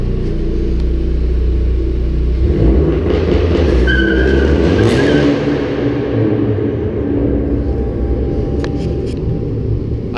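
A Ford Focus ST launches hard from about 2500 RPM, with a loud rising engine rumble and spinning tires squealing faintly through a steady ten-second pull, no speech heard.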